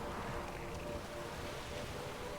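A boat sails across open water in The Witcher 3, with steady wind and wave noise rushing continuously at a moderate level and no voices over it.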